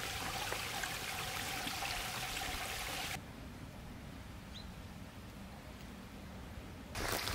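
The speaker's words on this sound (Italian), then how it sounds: "Questa parte di bosco innanzitutto è molto più ricca di acqua, infatti ho già guardato il secondo ruscello." A woodland stream trickles on a forest loop trail in the Alpe and Monte Porale hills of Liguria, a steady soft wash of water that drops somewhat quieter midway before rising again, with no voices.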